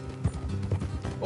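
Rhythmic hoofbeats of horses moving at pace in the video game Red Dead Redemption 2, steady clip-clop under a continuous background bed, with occasional faint voice-like sounds.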